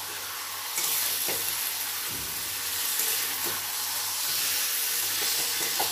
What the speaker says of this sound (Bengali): আমি হাই ফ্লেমে চিকেনটাকে ভাজা ভাজা করে নেব।